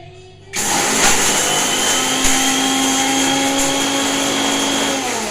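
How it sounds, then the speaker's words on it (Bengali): An electric spice grinder switches on after a brief pause and runs as a loud, steady high-pitched whir while it coarsely grinds the spices, with no talking. "তো আমি এখন এটাকে একটু মানে পিষছি, এটা পিষে নিই।"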